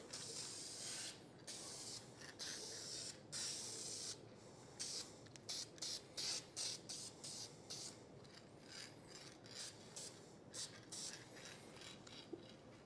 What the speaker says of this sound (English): Let's give it a little bit of dye. Let's try not to spray that in my own face.